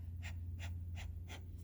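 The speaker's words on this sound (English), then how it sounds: "Come back to the panting." Rapid rhythmic panting of a breath of fire breathing exercise, four quick forceful exhales at an even pace, close but faint over a low steady hum.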